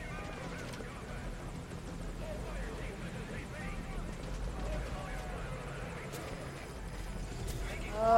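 A helicopter's rotor thrum in the video game Metal Gear Solid V: Ground Zeroes runs steadily beneath shouted voices and game noise, a low droning chop that holds throughout.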